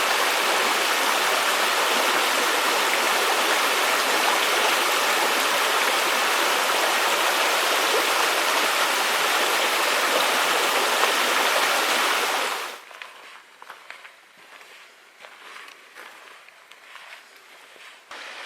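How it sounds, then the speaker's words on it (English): A mountain stream near Cox Creek rushes steadily as a loud, continuous broadband wash, then drops abruptly to a much quieter background of faint trickling and scattered small sounds. "the stream is coming right off that mountain"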